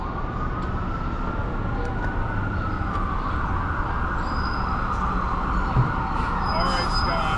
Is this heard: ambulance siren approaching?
yes